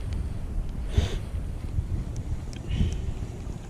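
Steady wind buffets the microphone in a low, continuous rumble outdoors while bass fishing with a spinnerbait, with a couple of faint brief knocks and splashes; no clear speech.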